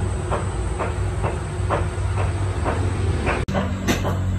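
Desi ghee poured over a hot tandoori mutton raan, a loud, dense hiss of sizzling fat close up with faint rhythmic crackles throughout and a brief abrupt break near the end.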